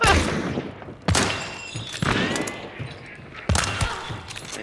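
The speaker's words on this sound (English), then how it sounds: "Oh, you're getting shot at from somebody else." Gunfire in the video game Hunt: Showdown, with a few loud, booming shots that land about a second apart and ring out with a long tail, mixed with game noise and faint talk.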